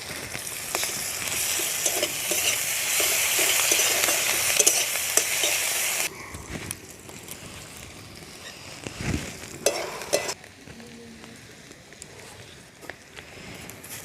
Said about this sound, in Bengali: দিয়ে দেব আদা রসুন কাঁচা লঙ্কার পেস্টটা।